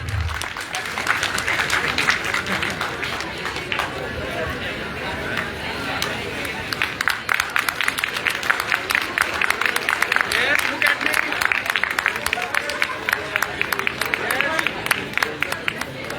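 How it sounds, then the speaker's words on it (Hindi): An audience at a chartered accountants' function applauds the chairman, sustained clapping from a large crowd that builds and continues for many seconds, with some crowd murmur mixed in. "एक बार जो ताली हमारे चेयरमैन साहब के लिए हो जाए।"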